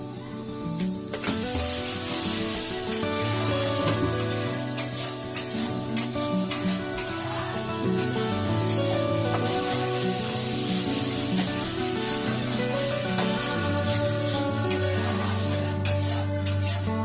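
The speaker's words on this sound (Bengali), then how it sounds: "পেঁয়াজ ভাজা হচ্ছে" Onions frying in a pan for a catla fish curry, a steady loud sizzle with scraping and stirring throughout, while layered music tones play over the top.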